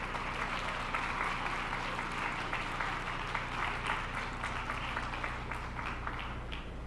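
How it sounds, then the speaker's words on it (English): Applause for award winners at a university State of the University address, a dense, steady clapping from a sizable audience that continues evenly throughout with no voices over it. "Let's have a round of applause for them again"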